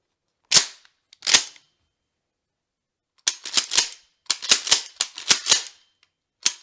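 A Mossberg 500 shotgun is dry fired off safety during a function test: sharp metallic clicks and clacks, two isolated ones first, then a rapid cluster of action and trigger clicks, close and crisp.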